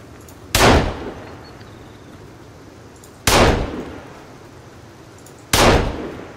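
Three loud, evenly spaced handgun shots ring out in Sons of the Forest, each a sharp crack with a short decaying tail and quiet stretches between them.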